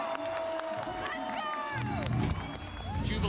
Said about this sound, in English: Jubilation from the crowd as Fnatic have roared their way back into this